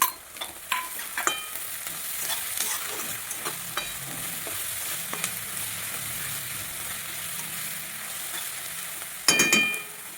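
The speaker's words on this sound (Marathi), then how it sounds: "आता 5 मिनिटं आपल्याला हे चांगलं ह्याला परतून घ्यायचं आहे तेलामध्ये" Ground chili and onion sizzle and hiss steadily in hot oil, with occasional scraping and clinking from stirring, ending in a louder flurry of stirring.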